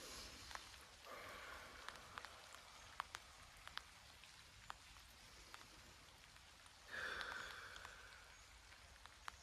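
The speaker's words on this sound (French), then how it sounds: "Il pleut toujours chez moi." Steady rain falls outdoors, soft and distant, with a brief louder swell of rain noise near the end; no talking.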